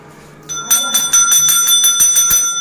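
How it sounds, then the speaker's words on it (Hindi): A small temple bell rung by hand at a home shrine, struck in a quick, steady series of about eight bright, ringing chimes with lingering metallic overtones, close and fairly loud. "पहले घंटी का बजा दूं"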